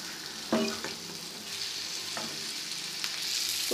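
Mutton liver frying on a hot tawa for tawa fry masala kaleji, a continuous sizzle with a few sharp spatula scrapes and stirring clinks, fairly faint and without talk.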